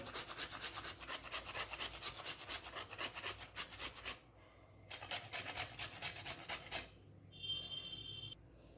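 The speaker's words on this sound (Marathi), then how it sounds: "तर यासाठी मी एवढं तरी जायफळ हे किसून घालणार आहे" Nutmeg is grated for a sesame-jaggery filling: a steady run of quick, rhythmic rasping strokes up close, pausing briefly twice, with a short high whine near the end.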